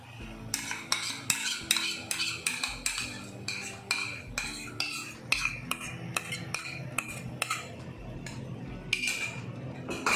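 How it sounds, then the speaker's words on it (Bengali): Kasundi mustard sauce is stirred into a vegetarian elephant-foot yam (ol) dish in a cooking pot, giving repeated close metal spoon clinks and scrapes against the pot in an irregular rhythm, with no talking. "এটা নাড়তে হবে ভালো করে, পুরো মিশিয়ে দিতে হবে"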